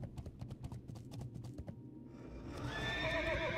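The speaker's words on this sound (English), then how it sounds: "And the horse sounds so weird. It's so like off tempo." Rhythmic hoofbeats of a World of Warcraft horse mount clip-clop at an uneven, off-tempo pace, then a loud, clear whinny rises and wavers over the final second.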